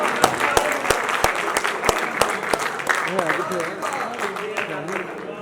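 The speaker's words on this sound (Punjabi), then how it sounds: "ਉਹਨਾਂ ਲਈ ਬਹੁਤ ਸਾਰੀਆਂ ਤਾਲੀਆਂ" Applause from a crowd at a Lohri celebration poetry gathering in Faisalabad, with sharp, distinct claps during the first half that fade as a voice begins talking over the thinning clapping.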